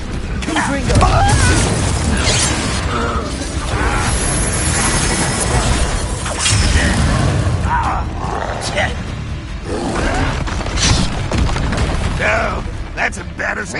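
Spell-casting effects from Hogwarts Legacy, Incendio fire blasts and Confringo explosive curses, crackle and boom in dense, loud bursts throughout, layered with mechanical clatter and game noise while a voice talks over much of it.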